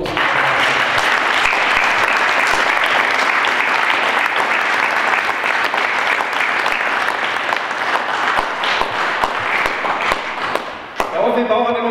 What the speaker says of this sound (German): dafür schon mal einen großen Applaus